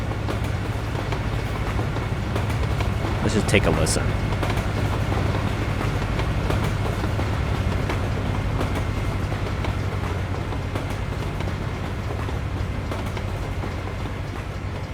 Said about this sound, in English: I like the new railroad sound